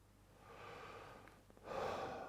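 A warm, relaxed inhalation taken like a yawn during a musical warmup, a soft airy breath in that swells louder toward the end, heard alone without talk.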